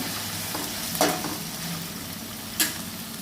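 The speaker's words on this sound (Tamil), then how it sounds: "ஒரு ஸ்பூன் இஞ்சி பூண்டு பேஸ்ட்டு போட்டுக்கோங்க போட்டு கொஞ்சம் நேரம் வதக்கி விட்டுக்கோங்க" Ginger garlic paste sizzling and frying in a hot pan with green chilies, a steady crackling hiss with a couple of soft clinks of a spoon stirring against the pan.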